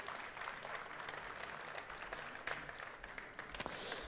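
An audience at a German casemod championship applauds the winners, a soft, steady patter of clapping from a crowd at some distance, fairly quiet, with a few sharper claps near the end.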